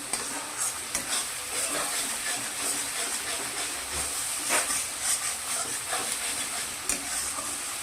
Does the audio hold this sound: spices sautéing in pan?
yes